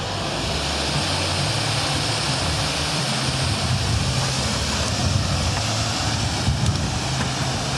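A small waterfall below the trail in the Grand Canyon rushes in a steady, even roar that holds unchanged throughout, heard from a distance with no talk over it.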